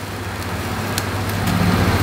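Flames flaring from a stove while honey beef ribs grill, a steady roaring hiss with a low rumbling undertone that holds loud and even throughout, with no talking.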